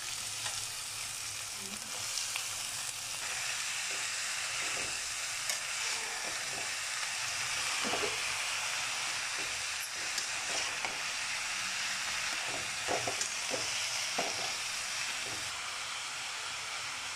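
Shredded cabbage fries in a hot pan for a home-style sabzi: an even, continuous hiss and sizzle runs throughout, with scattered light clicks and scrapes of stirring close by.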